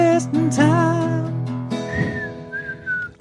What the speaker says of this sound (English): Any reason for the old man whistle?